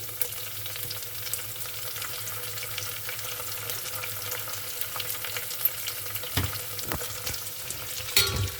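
Ginger garlic paste frying in ghee over a medium flame, a constant close crackling sizzle that runs throughout, with occasional stirring knocks and scrapes toward the end.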